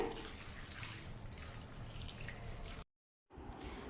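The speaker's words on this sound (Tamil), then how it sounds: "இப்போ இந்த காய் வேகிற அளவுக்கு தண்ணி சேர்த்திக்கலாங்க" Water splashes and trickles steadily into a pot of mixed vegetables for Tamil kootu, breaking off into a brief silence before the pouring resumes.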